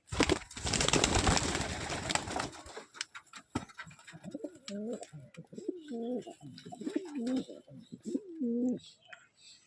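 Cappuccino pigeons cooing in a home loft, where a pair of chicks has just hatched, with several rhythmic, throaty coos repeating close by after a burst of loud rustling and wing flapping at the start.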